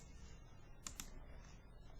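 A short pecking sound effect from the Scratch sound library gives two quick, faint taps close together over a quiet background.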